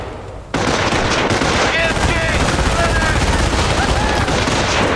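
Sustained machine gun and rifle fire in the World War II strategy game Company of Heroes, loud and continuous after a brief quieter opening, with game voices and battle chatter mixed in.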